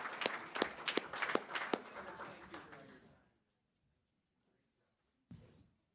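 Applause at a school board of education meeting, a round of clapping with sharp individual claps in a hall that dies away after about three seconds, followed by quiet and a short faint burst.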